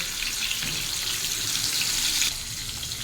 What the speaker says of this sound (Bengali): এখন গরম তেলের মধ্যে ছেড়ে দেব নুন হলুদ মাখানো মাছের টুকরো